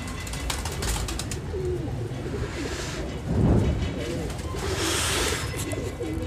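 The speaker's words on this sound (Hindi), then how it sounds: "दो कबूतर बैठे हुए हैं ऊपर।" Pigeons, one white and one black, perched on a rooftop, coo softly in low repeated phrases against steady outdoor background noise, with a brief louder burst midway.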